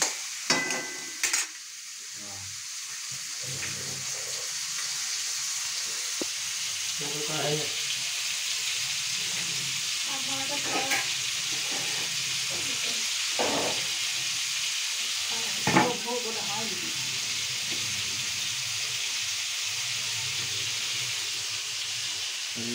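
Prawns frying in a pan give a steady hissing sizzle that runs throughout, with scattered clinks and stirring knocks and faint voices now and then.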